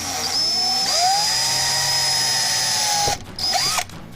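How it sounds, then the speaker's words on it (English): A power drill whines loudly and steadily as it bores pilot holes into an old wooden table, then stops and briefly spins up again. "I'm going to pre-drill my holes just because this wood is so old."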